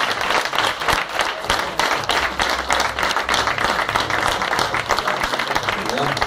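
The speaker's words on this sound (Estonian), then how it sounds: "Teeme siis ühe aplausi veel võitjatele kohas üheskoos." Applause at an awards ceremony for the 2013 Estonian league champions: dense, sustained clapping from a crowd fills the whole stretch at steady loudness, with voices mixed underneath.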